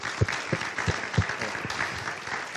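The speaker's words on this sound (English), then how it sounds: "Let's give them a round of applause." An audience applauds teens who fasted for 30 hours, a steady wash of clapping with a few heavier low thumps landing at regular intervals.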